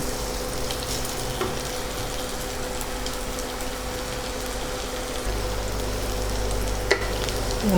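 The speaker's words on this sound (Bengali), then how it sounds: "একটু পেঁয়াজটা ভাজা ভাজা হবে, একটু লালচে হয়ে আসবে" Sliced onions frying in oil until reddish for a tomato fish dish, a steady close sizzle with patter-like crackles and occasional stirring, with a low hum growing stronger near the end.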